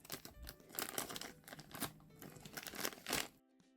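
Close, crisp crinkling of a small plastic bag around a toy figure from a blind bag, in quick irregular bursts, then it stops abruptly near the end.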